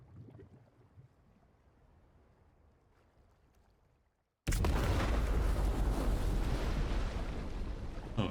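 After quiet low rumbling, a sudden loud explosion in the video game Death Stranding bursts in and sustains as a dense, roaring blast that slowly fades.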